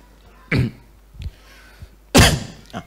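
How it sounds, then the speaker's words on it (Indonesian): Two sharp coughs, one then a louder one a second and a half later, with a faint throat noise between them in a quiet room. "Nah, itu batuk"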